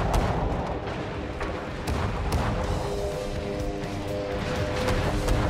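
Naval artillery fire from World of Warships, with a Bismarck-class battleship exchanging HE shells with a Harekaze destroyer through a smoke screen. Repeated booming shots ring out over a continuous rumbling battle bed, loud and dense throughout.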